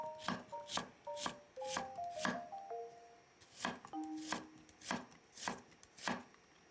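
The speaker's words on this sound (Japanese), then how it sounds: "玉ねぎは1/4個を薄切りにします。" A knife thinly slices a quarter onion on a cutting board in a steady rhythm of about a dozen crisp chops. The sound is close and clear, with faint tones ringing between the cuts.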